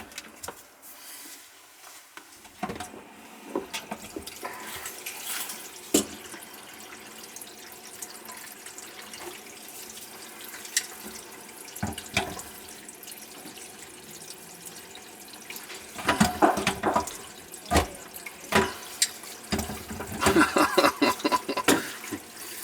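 Water runs and drips from a kitchen sink whose backed-up drain is leaking, a close stream with scattered splashes and drips that swell into heavier bursts of flow toward the end.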